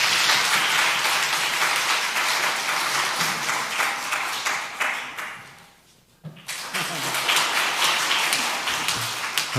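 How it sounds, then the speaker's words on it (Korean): A church congregation applauds in sustained, lively clapping. The applause fades out near the middle, leaving a short quiet gap, then the clapping picks up again and continues to the end. "박수 부탁드립니다."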